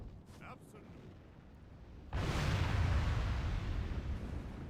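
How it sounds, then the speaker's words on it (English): Mortar fire in the WarCraft Total War strategy game: after a quiet stretch, a sudden heavy boom opens into a sustained rumbling roar of artillery barrage, loud and dense, with faint speech beforehand. "Cannons are lobbing. Or mortars, I don't have cannons yet."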